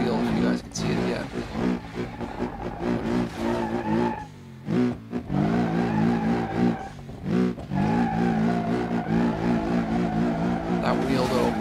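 A wrecked, undrivable car in the BeamNG.drive driving game, its damaged engine still running with a loud continuous drone and shifting pitch, heard under someone talking.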